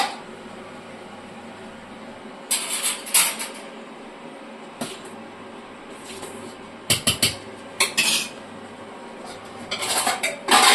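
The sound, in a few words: kadai placed on the stove and oil poured in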